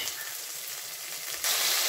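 Onions fry with salt in a pan for fish kulambu, a close, continuous crackling sizzle that swells louder for the final half second.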